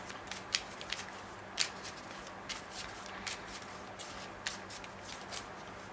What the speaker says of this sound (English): I have already shuffled the cards, but I just want to give it a quick shuffle again.